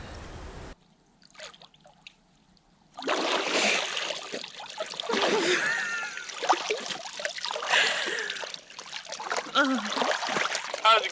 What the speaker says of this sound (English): Okay, I'm going into the water.